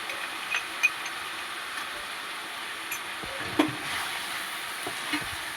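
Ginger paste and cumin-coriander paste fry in a pan for a banana flower curry, giving a continuous soft sizzle with occasional close scrapes and taps from stirring.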